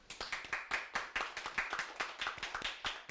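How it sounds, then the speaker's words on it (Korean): Audience members at a lecture on education clap their hands in quick, uneven bursts, a fairly quiet patter of sharp claps with no talk over it. "여러분 신나게 한번 박수 한번 쳐보세요"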